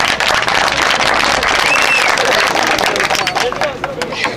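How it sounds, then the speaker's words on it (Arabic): Applause for a municipal president at a volleyball final held for Independence and Youth Day, a dense steady patter of clapping from a crowd with babble mixed in, loud and continuous throughout. "يا جماعة تصفيق على الرئيس"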